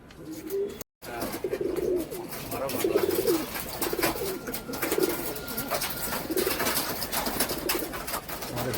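Soft cooing of flying pigeons being driven into their loft repeats through the clip over a steady background rumble, with a brief dropout near the start.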